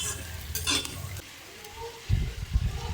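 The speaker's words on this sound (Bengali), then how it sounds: "আর এবার পেঁয়াজের সঙ্গে একটু ভাজা করে নেব।" Pumpkin and potato pieces fry with onion in a pan, a spatula stirring and scraping in short bursts with a low sizzle underneath and a couple of soft knocks against the pan near the end.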